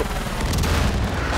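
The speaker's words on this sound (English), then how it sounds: "Explosions. Boom!" A loud, dense explosion in Far Cry 5 booms as a sustained low rumble with crackling bursts for over a second, heavy and close, with no voices.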